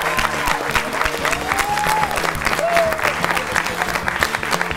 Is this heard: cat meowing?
no